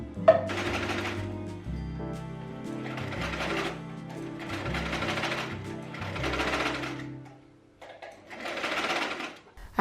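A sewing machine stitching onto an already-made shirt runs in five bursts of rapid, buzzing stitches with short pauses between them, close and steady, with music playing underneath.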